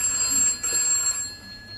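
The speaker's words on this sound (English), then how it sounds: "It's the phone." A telephone bell ringing indoors in a British comedy scene, a steady high electronic-sounding trill held for about a second and a half against a quiet room, with no talk over it.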